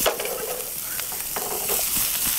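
Chopped bacon sizzles and crackles steadily in a frying pan, a close, continuous hiss with scattered pops and a faint stir or clink, with no talking over it.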